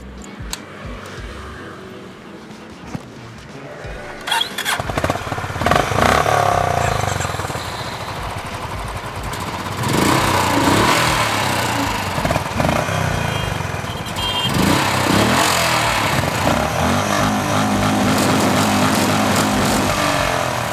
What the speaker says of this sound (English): how these two motorcycles sound next to each other